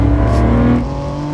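A BMW Z4 sports car accelerating hard to 60 mph, its engine roaring loud and close with a steady rising note, then briefly dropping in level partway through as if shifting gear.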